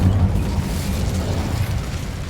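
A fiery Incendio spell blast in a video game, a loud low rumbling burst that roars steadily for about two seconds with no voices.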